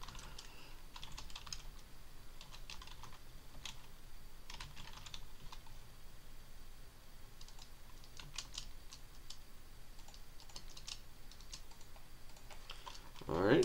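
Rapid typing on a computer keyboard while writing a C++ calculator program; steady, fairly quiet clusters of key clicks continue throughout, close to the microphone, with no talking.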